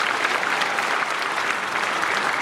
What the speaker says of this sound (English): thank you for giving her a great round of applause